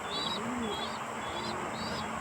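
Pigeons in a loft, a mix of older birds and grown squabs, give soft low coos that swell and fade, over steady background noise with a few faint high chirps.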